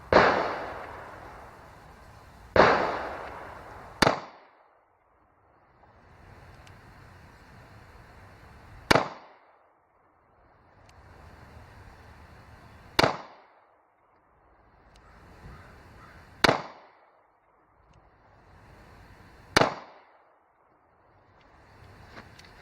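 Ruger LC9S pistol fired at a shooting range: six sharp, loud single gunshots spaced a few seconds apart, each followed by a short decaying echo, with quiet range ambience between shots and no talking.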